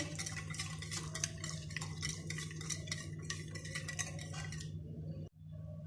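Steady scraping and clinking of a spoon stirring spices and ginger-garlic paste in a bowl, continuous and close, stopping abruptly near the end.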